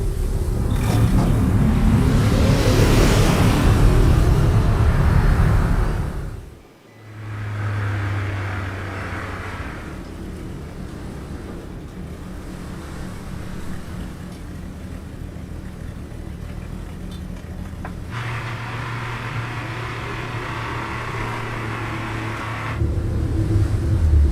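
A car in the video game House of 1000 Doors: Evil Inside rumbles loudly before cutting out abruptly, then a low engine drone continues at moderate volume with steady hum and shifting noise.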